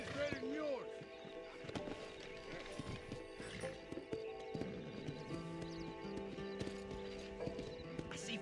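Hooves clip-clop steadily in the Western video game Red Dead Redemption as a horse moves along, with a whinny near the start. Soft ambient game sounds lie underneath, and the whole scene is fairly quiet.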